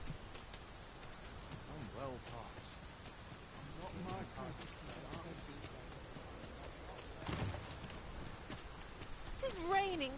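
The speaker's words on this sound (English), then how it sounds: "It is raining cats and drakes. There's naught to be done but suffer our wet boots." Soft, steady rain hissing in the fantasy game Dragon's Dogma 2, a faint wash of patter under game character voices and occasional background sounds throughout.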